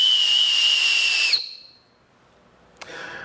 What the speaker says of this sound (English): This one here looks like a traditional kind of a whistle.